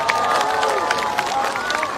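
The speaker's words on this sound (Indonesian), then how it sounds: "Tepuk tangan buat semuanya." A large crowd at an Indonesian political rally in Yogyakarta applauds and cheers, a loud, dense, continuous roar of clapping with a voice carrying over it.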